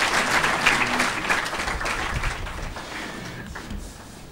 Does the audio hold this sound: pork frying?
no